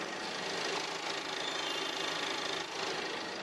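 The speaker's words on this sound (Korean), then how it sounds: "먼저 엔진 소음부터 체크해 보도록 하겠습니다." A 2014 German sedan's gasoline engine idles with a steady, even hum and a faint rhythmic ticking throughout, moderately loud and unbroken, with no voices.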